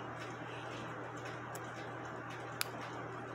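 A Schatz cuckoo clock under repair ticks steadily and faintly against a constant low hum, with one sharper click near the end.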